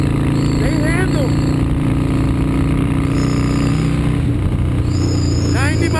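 Harley motorcycle engine running loud and steady at highway speed, around 90 mph in fifth gear, with heavy wind roar and the engine pitch rising as the throttle is pulled; someone talks over it.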